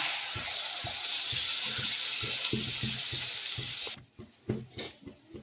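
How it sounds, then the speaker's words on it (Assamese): Hot water poured into a frying fish curry spice mixture in a pan gives a continuous loud hissing sizzle for several seconds, then cuts off into quieter scattered bubbling and a few sharp clinks. "এতিয়া ইয়াত ঢালি দিম গৰম পানী"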